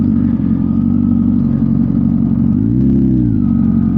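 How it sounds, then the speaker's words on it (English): Loud, steady low engine rumble of a large whiskey truck passing close by, with a brief rise in pitch as it passes. "With a giant whiskey truck going by."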